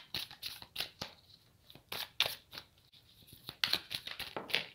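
Tarot cards handled and drawn from a deck during a reading, heard as soft close-up shuffles, slides and flicks in quick irregular bursts, with no talk.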